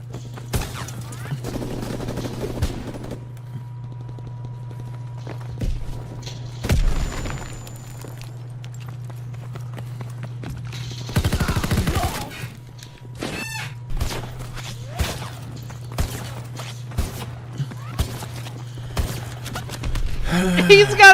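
Gunfire in a game plays as bursts of sustained shots and scattered single cracks over a steady low hum, with footsteps and thuds between the bursts.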